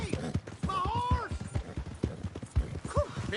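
Horse hooves clip-clop at a gallop in the Red Dead Redemption video game, a quick, close pounding rhythm mixed with gliding tonal calls and background noise.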